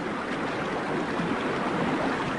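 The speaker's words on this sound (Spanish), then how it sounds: "Aquí en la región alta el nacimiento del río es un manantial pequeño y rápido." Water rushes steadily at a small, fast spring at the source of a river in the high country, a dense, continuous close-up roar with no voices.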